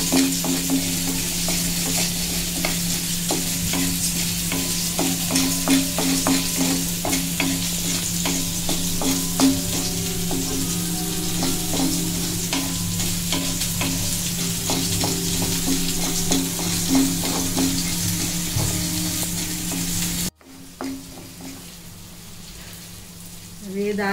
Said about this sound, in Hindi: हमको पहले चने की दाल भून के लेना है। मीडियम आंच में हमको भूनना है इसको